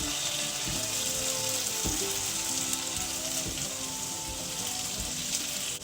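Potatoes frying in a pan with garlic powder, producing a loud, continuous hiss of sizzling fat close up, steady from start to finish with faint scraping under it.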